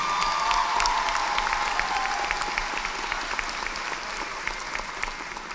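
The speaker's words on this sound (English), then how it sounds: "give them an applause because they shared this journey with you" A large commencement ceremony crowd applauds parents and families, steady dense clapping with light cheering throughout, evenly sustained and slowly easing.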